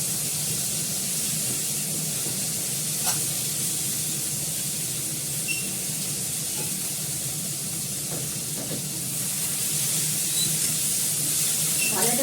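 Pumpkin frying in a pan with coriander leaves, giving a steady broadband sizzle that holds evenly throughout, with a few faint clicks and clatters over a low background hum.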